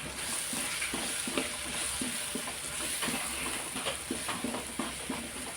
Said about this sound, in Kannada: ಪೌಡರ್ ಫ್ರೈ ಆಗಲಿ